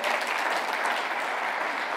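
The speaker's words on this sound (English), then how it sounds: "Let's give the Lord a hand clap out here." A church congregation gives a dense, continuous burst of hand clapping, loud and close, filling the whole short moment with no pause.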